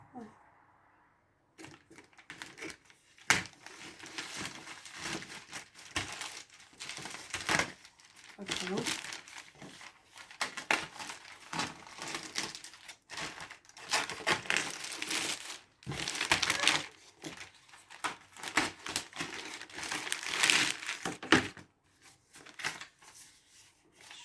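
Cardboard and plastic packaging crumple and crinkle as the box of a Singer Elite ME457 sewing machine is unpacked, with irregular close rustling bursts and handling noises throughout and a person talking at times.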